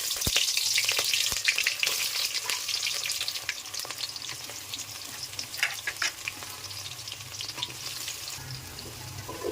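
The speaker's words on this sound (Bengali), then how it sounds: "পেঁয়াজটা কিছুক্ষণ ভেজে নিব।" Onion frying in oil with bay leaf, two cardamom pods and a little cinnamon for a fish and black gram dal, a continuous crackling sizzle with scattered pops and spatula clicks, fairly close and steady throughout.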